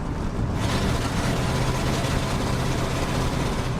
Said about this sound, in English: the old farm truck started running a little goofy